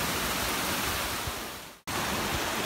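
Waterfall in Yosemite National Park, California, giving a steady broadband roar of rushing water, loud and even, cut by a brief dropout before resuming just as strong.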